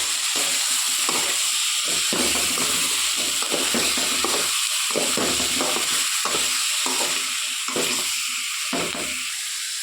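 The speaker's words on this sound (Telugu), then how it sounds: "ఇప్పుడు మిక్స్ చేస్తాను" A spoon stirs banana curry with spices in a hot frying pan, loud continuous sizzling with repeated scraping strokes in an irregular rhythm, close up and without talk.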